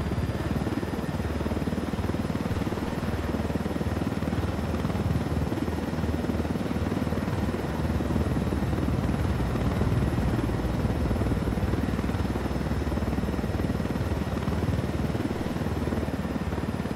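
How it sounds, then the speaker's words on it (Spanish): Helicopter in the Ghost Recon Wildlands video game flies with a steady, continuous rotor and engine drone, loud and unbroken for the whole stretch, with no talk over it. "No hay nada como llevarse un helicóptero para encarar el día."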